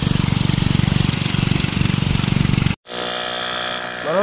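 An oil engine pump runs at a fish pond, thumping in a fast, even, loud chug for nearly three seconds before cutting off abruptly, followed by a quieter mix of tones.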